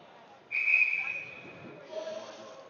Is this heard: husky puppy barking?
no